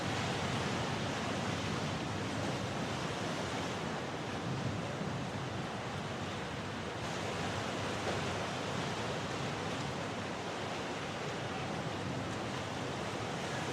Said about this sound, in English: The sea, previously a maelstrom of moonlit waves, begins to calm